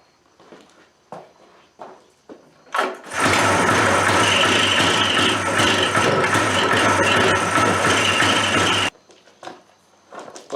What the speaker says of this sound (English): it's like the world's slowest motor